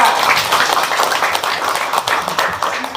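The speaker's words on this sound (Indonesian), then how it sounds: "Tepuk tangan luar biasa." A seminar audience gives a sustained round of applause, dense, steady clapping from many hands lasting a few seconds, heard fairly close.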